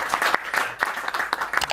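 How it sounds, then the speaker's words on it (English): Audience applause at a talk on youth and positive change: a short burst of dense, steady clapping from a crowd, fairly close and even in loudness throughout. "Can we clap for them?"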